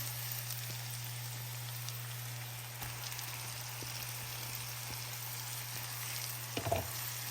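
Boiled coconut noodles fry quietly in a pan with potato, onion and green chili, giving a soft, steady sizzle and a few light clinks of stirring over a low hum.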